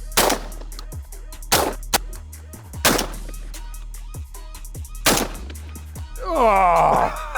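Several sharp, loud shotgun blasts ring out one at a time with short pauses between, fired at a drone high overhead, followed by a strained, wavering vocal sound at the end.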